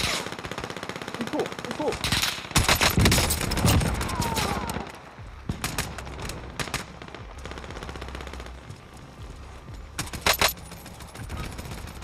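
Gunfire rattles in the video game Modern Warfare Warzone, with dense bursts of automatic fire early on, then scattered shots and a final close burst, and a short spoken remark in between.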